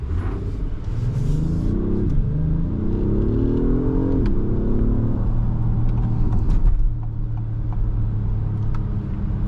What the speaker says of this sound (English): Really quick acceleration.